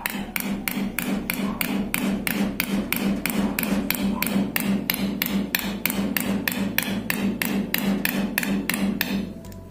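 A Hurst shifter lever on a Chevy Nova is hammered onto its threaded bushing, a loud, steady series of about two dozen evenly spaced metallic blows close by, with no talking.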